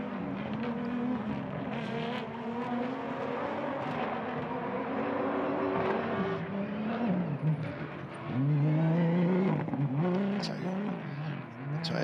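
Self-funded privateer Toyota Hilux rally-raid truck at a rally raid prologue, its engine a loud, continuous roar with pitch rising and falling as it drives past up close, with a surge of revving near the end; someone may be speaking over it.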